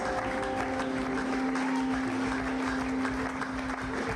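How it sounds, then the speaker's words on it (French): A church congregation at a Sunday service applauding, dense steady clapping from many hands in a large room, with a sustained tone ringing over it. "acclamons très fort pour notre Seigneur Jésus-Christ"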